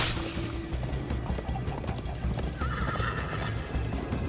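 A horse in Minecraft Story Mode neighs loudly near the start, with hoof clip-clops and busy game-like effects continuing throughout.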